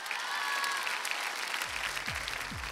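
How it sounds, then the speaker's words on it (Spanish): Studio audience applause on a Mexican TV program, a dense crowd clapping steadily at moderate volume, with a whistle early on and low tones creeping in near the end. "un aplauso. ¡Aplauso!"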